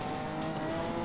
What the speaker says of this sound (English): Oh, that's the Dodge Viper. Viper SRT10